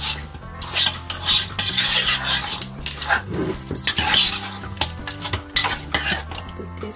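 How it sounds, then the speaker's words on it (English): A spoon stirs goat meat pepper soup in a pot, scraping and clanking against the sides in a busy, irregular rhythm, close and fairly loud, over a faint simmer. "stir everything"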